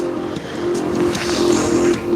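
A 150cc gas-powered horizontal engine, homemade and fed from an old metal gas can, runs steadily at close range with a constant hum and a few faint clicks.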